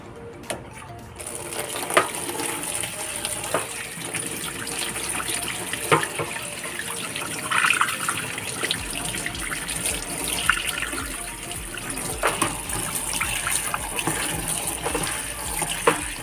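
Running tap water splashes steadily into a sink while something is washed under it for a vegetable soup, a continuous close rushing hiss with occasional knocks and no talk.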